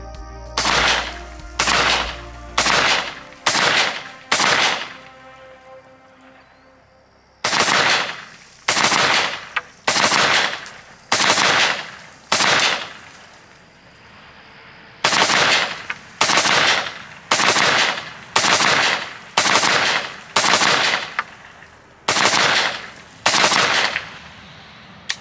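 Semi-automatic rifle fire through a Witt Machine SME muzzle device into a dirt pile outdoors: loud, sharp shots in quick strings of about five, broken by short pauses, each crack trailing a brief echo.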